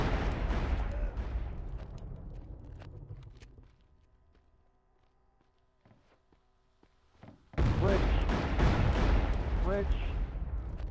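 Gunshots in the Call of Juarez video game: a volley of shots up front, a quiet lull, then another dense burst of close, loud fire, with a voice talking over the shooting.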